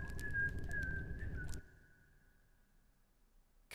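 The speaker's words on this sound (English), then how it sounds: "Stop whistling, you're gonna have no money." A game character in INDIKA whistles a steady tune over a low ambient bed for about a second and a half, then it cuts off, leaving faint background and a short sound at the end.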